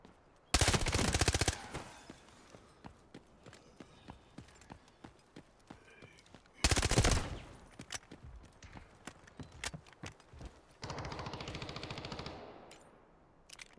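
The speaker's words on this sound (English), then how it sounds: "Oh my god, I just sniped that dude." Sniper rifle gunfire in the shooter game Delta Force: sharp, loud rifle bursts interrupt steady background battle noise, with scattered distant shots and a long rushing noise near the end.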